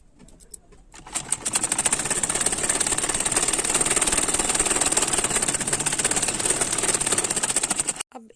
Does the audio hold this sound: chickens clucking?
no